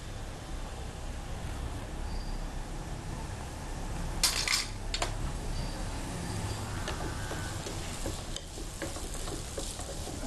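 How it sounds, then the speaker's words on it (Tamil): Cashews fry in ghee in a pan, giving a soft steady sizzle with a few sharp metallic scrapes and clinks of a spoon stirring partway through, close and fairly quiet. "இன்னொரு பக்கம் நம்ம முந்திரி பருப்பை வறுத்து எடுத்துக்கலாம்"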